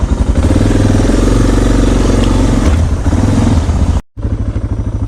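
Motorcycle engine running loud and close while riding toward the Mexican border, a steady throbbing drone with rhythmic pulses, briefly cutting out near the end before resuming.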